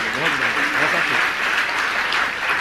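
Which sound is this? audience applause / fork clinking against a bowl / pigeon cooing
audience applause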